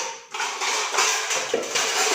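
Metal cooking pots and utensils clatter and clank in a home kitchen, a dense run of close, bright metallic knocks and scrapes with a sharper hit partway through.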